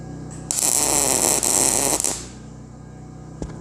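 A welding arc crackles and buzzes steadily on a corner joint, close and loud for about a second and a half before cutting off, with a constant machine hum underneath.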